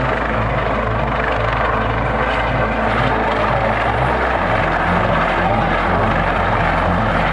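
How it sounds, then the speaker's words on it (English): A Coast Guard rescue helicopter's rotor thumps and engine roar fill the scene continuously over the open ocean, loud and steady, with no voices over it. "Coast Guard helicopter rescue in the middle of the ocean from Carnival Sensation ship."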